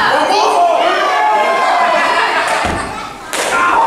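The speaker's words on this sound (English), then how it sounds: "a kick to the midsection and a big chop" In a pro wrestling match, a kick to the midsection and a big chop land as sharp slapping thuds over a roaring, cheering crowd, with a fresh burst of impact and crowd noise near the end.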